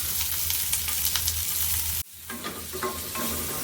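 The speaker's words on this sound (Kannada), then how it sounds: "ಚೆನ್ನಾಗಿ ಸಿಡಿತಿದೆ." Onions and green chilies frying in a pan, a steady loud sizzle that cuts off abruptly midway, then quieter crackling and stirring returns, no voices.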